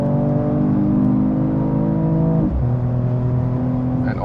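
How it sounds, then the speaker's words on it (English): Mercedes-AMG E53 Cabriolet six-cylinder engine accelerating hard, a steady rising drone with one gear change partway through, heard from inside the car. "And now let's accelerate it out."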